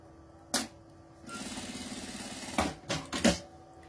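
A sewing machine runs a short burst of stitching along a seam in a nylon wallet, a fast even rattle of needle strokes, with sharp handling clicks and bumps before and after, quiet and close.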